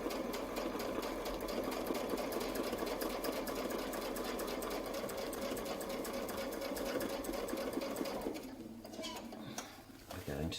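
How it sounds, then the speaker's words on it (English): A sewing machine stitches a quilted feathered circle wreath, its rapid ticking needle strokes running steadily up close for about eight seconds before slowing and stopping, with brief handling noise after. "We're going to turn and sew our circle."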